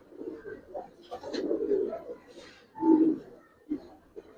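Giribaz pigeons, a pair of silver-coloured fancy birds, cooing in low, throaty bursts, a long rolling coo and then a louder, rounder coo near the end, fairly close and with nobody talking over them.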